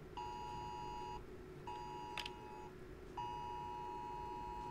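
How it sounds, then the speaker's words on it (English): iPhone emergency alert tone sounds three times as repeated steady beeping bursts of about a second each, separated by short gaps, fairly faint with a brief click between the first two bursts. "Shows what emergency alert system messages look and sound like on two different iPhones"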